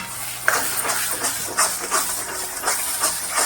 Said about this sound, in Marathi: आता ह्याच्यामध्ये मी बटाटे घालतेय, बटाट्याच्या फोडी करून घेतल्यात त्या घालते।